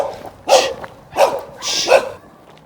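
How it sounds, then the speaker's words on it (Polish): A dog barks three times, close and loud, in sharp evenly spaced barks with short gaps between them. "No, przestań szczekać."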